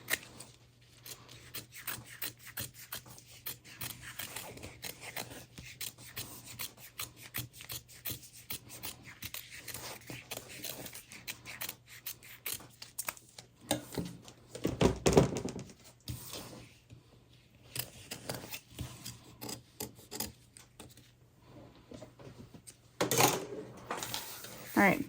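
Scissors snip through sewing fabric for a zipper bag, a run of close, crisp cuts and rustles with brief louder scrapes, faint talk now and then.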